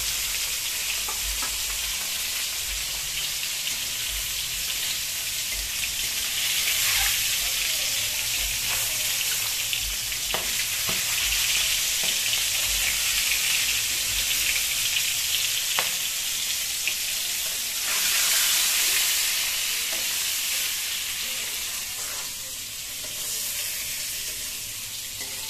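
Eggs fry in hot oil with a loud, continuous sizzle and crackle, swelling in brief bursts and holding steady with no voices over it.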